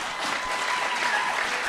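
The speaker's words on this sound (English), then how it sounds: "thank you for clapping" A conference audience at the 2023 Reclaiming Canada event claps loudly and continuously, a dense wash of many hands sustained without pause from start to finish.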